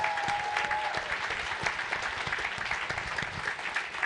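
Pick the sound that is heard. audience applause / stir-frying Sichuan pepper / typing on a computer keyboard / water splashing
audience applause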